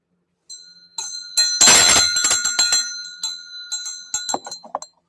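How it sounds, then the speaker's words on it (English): A bell rung sharply several times in a quiet room, bright metallic dings with a burst of rapid strikes near the start followed by scattered rings that fade and ring out toward the end. "I rang the bell"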